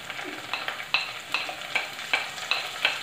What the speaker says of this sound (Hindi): अब हम इसमें हमारे ये पिसे मसाले थे हम इसे डाल देंगे, हल्दी